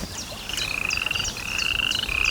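A small toad croaks in a steady run of repeated calls, close and fairly loud, with a sustained tonal trill beneath them and no voices.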